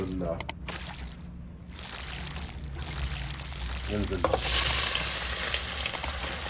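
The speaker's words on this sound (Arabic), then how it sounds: "هنشوح البصل لحد ما ندوبه لمده 3 دقايق" Onions sauté in a pan for sausage, a steady sizzle that swells louder near the end, with stirring and pouring noises throughout.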